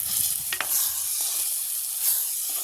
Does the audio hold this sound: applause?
no